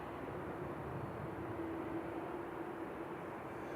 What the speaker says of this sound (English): next is Etihad Flight 76, heading back to Abu Dhabi. This is A6BNA